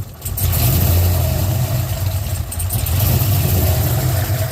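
An LS6 V8 engine idles close by with a steady, loud low rumble and even mechanical hum, running smoothly and unbroken with no talk over it.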